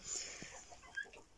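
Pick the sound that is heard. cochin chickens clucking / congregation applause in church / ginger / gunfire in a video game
cochin chickens clucking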